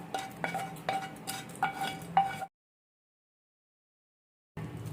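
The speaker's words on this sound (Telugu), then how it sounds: "ఈ తాలింపు అంతా ఈ చట్నీలో కలిసేలాగా ఇలా కలుపుకోవాలండి." A spoon clinks and scrapes repeatedly against a dish while tempering is mixed into hotel-style coconut chutney. The strokes are close and rhythmic, then the sound drops to silence and a brief murmur returns at the end.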